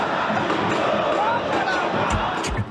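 A Brazilian football stadium crowd, Fluminense supporters at Estádio Nilton Santos, cheers in a continuous loud roar, with a few thumps and bursts near the end.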